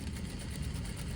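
A sewing machine stitching a dart in contrasting thread gives a brief, faint, steady whirring hum.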